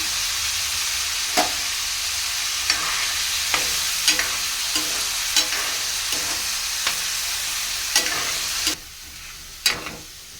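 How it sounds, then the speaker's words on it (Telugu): Small pieces of potato fry in a pan with a constant close sizzle, punctuated every second or so by sharp clacks of a spatula stirring and scraping, the sizzle dropping quieter near the end. "చిన్న చిన్న ముక్కలు కింద కోసాను ఫ్రెండ్స్ బాగా ఫ్రై అయ్యాక అప్పుడు తాలింపు కూడా వేస్తాను"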